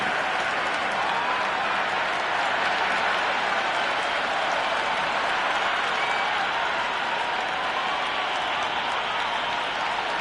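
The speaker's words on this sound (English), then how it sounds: "It's almost palpable, the excitement emanating from this crowd at the moment" Stadium crowd in a Cricket 26 match applauding and cheering steadily, a dense continuous wash of clapping and roaring that holds loud and even throughout with no talk.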